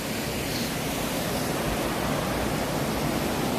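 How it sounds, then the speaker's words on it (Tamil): Waterfall water pouring and rushing in a steady, dense roar, continuous and fairly close, with no voices over it. "வாட்டர் ஃபால்லேருந்து வந்த தண்ணியெல்லாம் பாருங்க."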